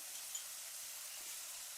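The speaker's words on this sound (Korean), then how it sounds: "어느 정도 달아오르면 양파하고 베이컨을 볶습니다." Onion and bacon stir-frying in hot cooking oil give a soft, steady sizzle and hiss, faint and continuous with no voices.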